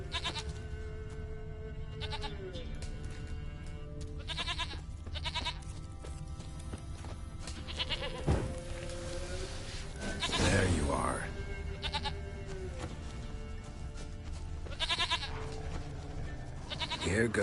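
Goat bleats from The Witcher 3 come in repeated wavering cries over several seconds, mixed with game ambience, a sharp knock and a louder burst near the middle, with a voice speaking intermittently.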